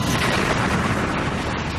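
A loud, continuous crashing roar with heavy low rumble and broadband noise, as a 307-ton runaway train smashes into a commuter train at a station platform, sustained throughout, no voices.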